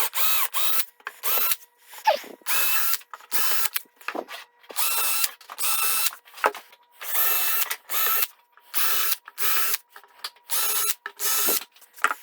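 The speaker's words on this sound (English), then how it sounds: "So I can try to drill right in the middle of that." A power drill drilling a hole in a bracket whirs in repeated short bursts, starting and stopping in an uneven rhythm, close and loud with brief silences between.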